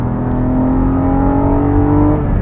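A Porsche 718 Cayman GT4 pulls hard in third gear, its engine note climbing smoothly and loudly from inside the car with no talk over it.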